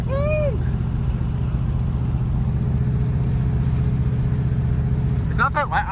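A mildly tuned 302 V8 in a Ford Mustang, revived after decades of sitting, runs down the road at a steady, moderate rumble heard from inside the car, with occupants chatting.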